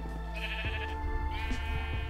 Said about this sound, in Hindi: बकरियां स्पॉन हो गई बकरियां और घोड़ा स्पॉन हो गए